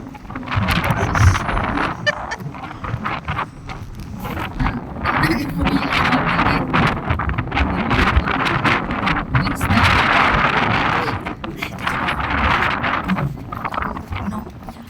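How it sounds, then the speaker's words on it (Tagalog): Gusty wind buffets the microphone in loud, uneven bursts while people talk over the roar. "grabe hangin na mati"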